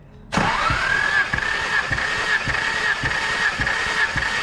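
A Nissan GTR engine cranks on the starter during a compression test on cylinder six: a steady, rhythmic chugging of cranking pulses with a rising whine, loud and close, with no talking.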